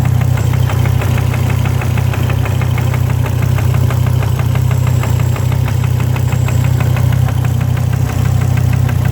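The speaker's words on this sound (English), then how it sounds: "So what I'm doing now, engine's knocking as you can hear" A Volvo engine with low oil pressure knocks steadily while running, a loud, rapid, even metallic ticking riding over a deep idling hum, close up and continuous.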